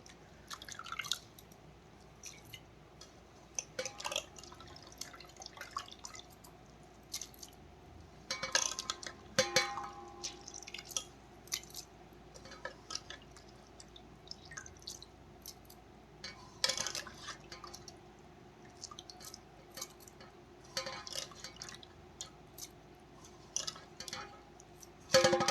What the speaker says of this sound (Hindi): आलू को अच्छे से धुल के उस पानी में डाल देंगे